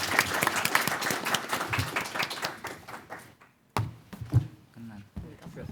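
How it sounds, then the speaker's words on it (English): An audience at a US-Korea alliance policy event breaks into a burst of applause that fades out over a few seconds, followed by scattered claps and voices talking. "Let's give them a round of applause."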